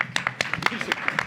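A small audience gives scattered, steady claps at a debate as a candidate, Dr. Charles Ballay, is introduced. The claps are sharp and fairly close together, with a faint murmur of voices underneath.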